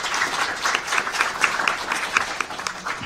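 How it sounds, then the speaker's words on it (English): An audience at a policy summit lunch plenary applauds steadily, a dense wash of many hands clapping at moderate distance with scattered sharper claps standing out throughout. "Let's give them a round of applause"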